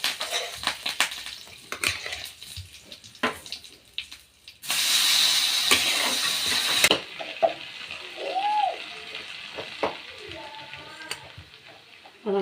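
Mustard seeds and curry leaves in a little hot oil give a sudden loud, crackling sizzle lasting a few seconds, preceded and followed by quieter clinks and kitchen handling noises.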